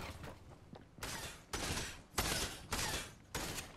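Rapid bursts of SMG gunfire in the Fortnite video game, about five loud sustained volleys separated by brief pauses, close and harsh.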